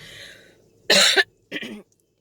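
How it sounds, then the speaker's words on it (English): Two coughs in quick succession, the first harsh and loud, the second shorter and softer, close to the listener. "I started coughing"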